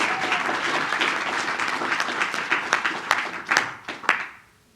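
Audience applause at a digital-technology conference panel, dense clapping from a crowd that thins into a few scattered sharp claps before fading to quiet.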